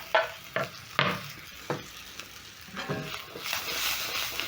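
Breakfast potatoes with coriander are stirred and tossed in a hot pan, giving several sharp scraping strokes over a steady low sizzle and no talking.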